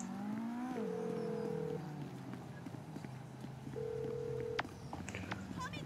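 An unanswered phone call in GTA 5 to the character Lester: two long, even ringback tones separated by a pause, heard over busy game ambience with clopping and scattered background noises.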